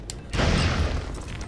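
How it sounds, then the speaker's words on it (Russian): An explosion in the Lego City Undercover video game, a single deep boom that hits suddenly and rumbles briefly before fading. "прям взрыв."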